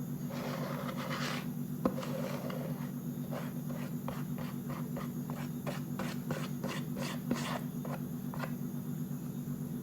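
Banana bread batter scraped into a baking pan, giving a series of soft, close scraping strokes in an irregular rhythm over a steady low hum.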